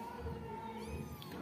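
A mother cat with her newborn kittens meows in a steady, drawn-out cry at close range, with no talking over it.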